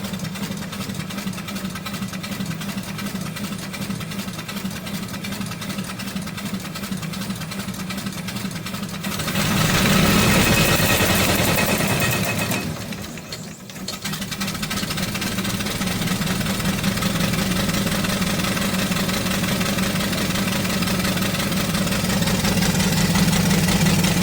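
An Aveling & Porter H Type steam engine runs close by with a steady chuffing, knocking beat, briefly surging louder and dipping before settling back into its even working rhythm.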